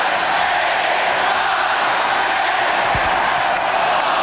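A basketball arena crowd roars and jeers continuously and loudly at a Jazz–SuperSonics game, trying to distract a free throw shooter, a dense sustained wall of voices.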